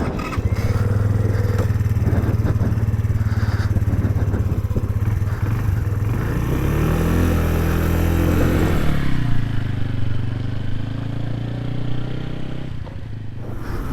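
A Bullit Bluroc 125 motorcycle idles and then pulls away, its engine note rising and shifting as it moves off, loud and close for most of the stretch.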